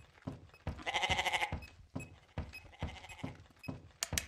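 Zombie goats in the Chupacabras Night Hunt game bleat repeatedly, one long wavering bleat followed by several shorter ones over rhythmic thudding game sounds, fairly close and clear.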